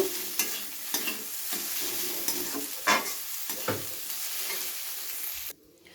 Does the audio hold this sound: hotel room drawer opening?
no